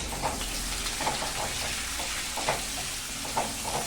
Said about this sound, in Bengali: এই যে আলুটা ভাজছি, এই তেলে আমি গোটা টমেটোটা দিয়ে দিলাম